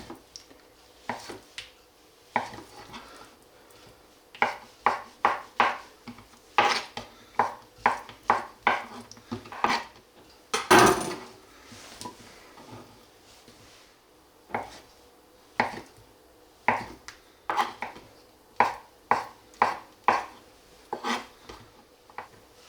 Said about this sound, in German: wir die Zeit nutzen, indem wir zum Beispiel den Parmesan reiben und den Mozzarella in kleine Stücke schneiden